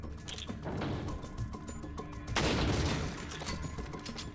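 Sniper rifle fire in Resident Evil 4 on the Wii, with a couple of sharp, close gunshot blasts and a heavy burst midway, amid steady game background noise.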